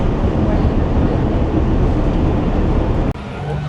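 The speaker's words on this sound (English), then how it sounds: "We are just gonna jump right here on the monorail." Magic Kingdom monorail at a station, a loud continuous rumbling roar of the train and crowd noise, abruptly cutting to a quieter hum near the end.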